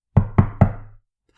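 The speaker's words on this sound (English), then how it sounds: "Now the wolf came to the goat's house for the 3rd time and knocked." Three evenly spaced, hollow knocks land on a wooden door, close and loud, each ringing briefly before fading into silence.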